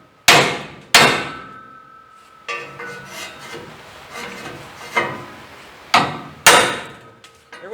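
A hammer hits a punch and chisel on a car, a series of loud ringing metallic clangs spaced about a second apart with short decays, close up and without talk.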